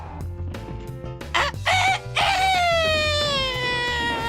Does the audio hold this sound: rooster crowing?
yes